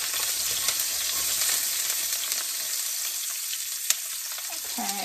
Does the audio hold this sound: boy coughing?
no